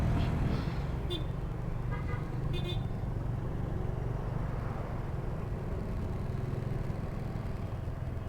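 Road traffic rumbles close by with a low engine drone, and a couple of short car horn toots sound early on, heard from a Honda Wave RSX motorcycle.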